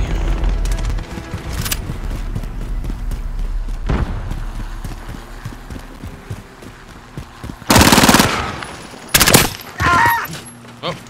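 Sharp bursts of gunfire in a shooter video game, scattered shots over a rumbling background, with loud clustered volleys near the end and voices breaking in between.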